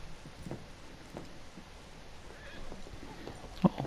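Horse hooves clip-clop at an easy walk in Red Dead Redemption 2 at night, faint and slightly distant, with a short snort or whinny near the end.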